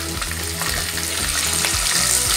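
Chicken pieces frying in a pan with ginger, garlic and green chili for chicken macaroni pasta, a loud steady sizzle with occasional stirring scrapes throughout.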